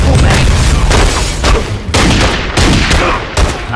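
Pistol shots ring out in The Godfather 2 video game, loud and close, as a run of heavy booming reports with short uneven gaps and dense game noise underneath.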